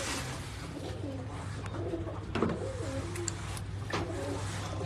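Soft, low pigeon cooing repeats in short rolling phrases over a constant background drone, with a brief thump midway through.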